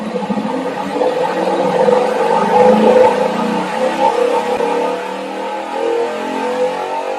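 An engine spun on a Spintron test rig builds speed with a loud, steady whirring drone that swells gradually and then holds, alone without talk.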